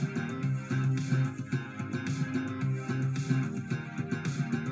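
Slap bass line in a pop track, with dense, punchy low notes popping in a busy syncopated rhythm, steady and moderately loud throughout with no voices.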